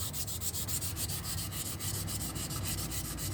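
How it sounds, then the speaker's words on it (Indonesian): Steady rhythmic scraping of fine and coarse sandpaper removing crust from a surface, strokes repeating quickly and evenly, close by with a low hum underneath. "Ya kita amplas ya, pakai amplas halus dan kasar nih untuk menghilangin keraknya nih."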